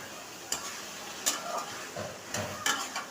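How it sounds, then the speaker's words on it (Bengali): Pabda fish fry quietly in spice paste in a pan, a soft sizzle broken by a few scraping stirs of the spatula. The sounds are close but faint, with no voices. "ঠিক তখন আমাদের মাছগুলো মশলার ভিতর দিয়ে ভালো করে কষাইতে হবে।"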